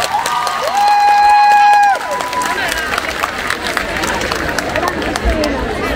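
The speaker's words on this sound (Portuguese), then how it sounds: "Forte aplauso, nós chamamos mais uma vez." Crowd at an outdoor town festival concert in Marco de Canaveses applauding and cheering after a pop performance, with a sustained electronic musical tone at first, then steady clapping and crowd noise continuing throughout.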